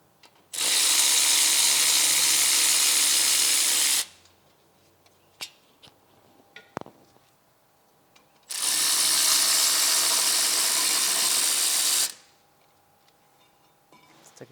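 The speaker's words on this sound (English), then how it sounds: "I'm going to use an electric ratchet" An electric ratchet runs in two long, loud, whirring bursts of a few seconds each while backing out brake caliper bolts on a 2002 Toyota Camry. Faint clicks and clanks come between the bursts.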